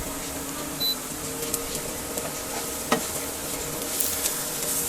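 Cabbage and carrot bhaji stir-fries in a pan with a steady close sizzle, broken by a few sharp clicks and scrapes of a spatula, with no one speaking.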